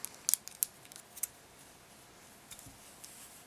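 Scissors snip beading thread during earring beadwork, a few small sharp clicks near the start, then fainter scattered ticks against a quiet background.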